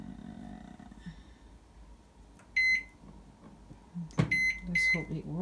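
A microwave oven set to cook a three-ingredient mug cake: a low running hum with several sharp electronic keypad beeps in short clusters, and a brief voice in the room.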